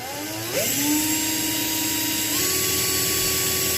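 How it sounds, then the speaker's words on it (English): An electric drill bores into the post of a Matchbox car, whining steadily and rising in pitch as it spins up, then holding a high tone that steps up once partway through. "you're going to go back to drilling at it even more."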